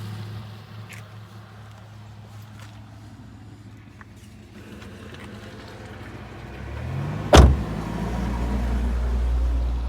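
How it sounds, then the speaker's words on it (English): A car door slams shut with one sharp, close thump, following a quiet stretch of faint low vehicle hum and light rustling. "let me shut my car door."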